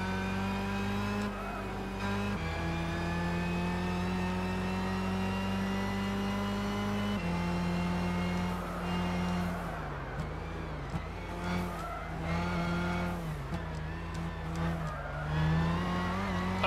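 Nissan GT-R race car in Gran Turismo 6 holding a loud, steady engine drone through a race lap, with pitch dips and climbs as it shifts and brakes, plus occasional tire squeal, no talking.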